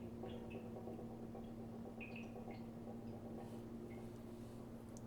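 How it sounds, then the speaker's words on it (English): CO2 gas bubbles into a keg of homemade sparkling wine with faint, scattered gurgles and drips over a low steady hum, quiet and close throughout. "You can hear the CO2 bubbling away into the keg."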